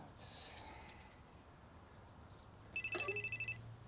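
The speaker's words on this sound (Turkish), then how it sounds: "Telefon." A telephone rings in a rapid electronic trill, one short burst after a brief stretch of quiet room sound.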